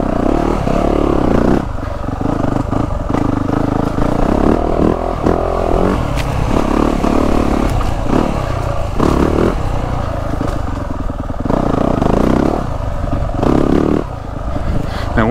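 A 2023 Yamaha YZ450F dirt bike, set up with a 350-style engine map, ridden through woods with downed trees: the engine runs loud and close throughout, with repeated throttle surges and revs plus clattering and scraping from the trail.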